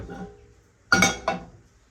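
A frying pan is set down on a stove while cheese pancakes (syrniki) are being prepared, giving one sharp metallic clatter followed by a second, softer knock, close and alone in a quiet kitchen.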